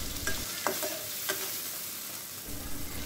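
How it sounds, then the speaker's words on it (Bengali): Chopped onions frying in a pan with salt for a korma, a soft steady sizzle with a few scraping stirs of a spatula and no talking. "এখন একটু ভেজে নিচ্ছি।"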